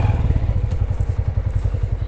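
A motorcycle being parked near a gurdwara in Kirtan Garh village, District Bhimber: a loud, close engine chugging at low idle in a steady rhythm, with some clatter and scraping and no talk.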